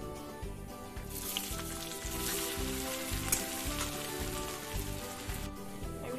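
Sliced onions crackle and sizzle in hot oil for an egg curry, a dense, close frying hiss that stays loud and steady throughout, with some low hum underneath and no speech.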